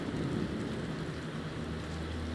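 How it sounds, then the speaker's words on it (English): Heavy rain falls steadily during a severe April thunderstorm in Columbus, Ohio, a dense unbroken roar with no pauses and nobody speaking. "the rain is kind of like picking up like a light switch"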